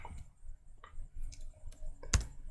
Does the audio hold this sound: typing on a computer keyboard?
yes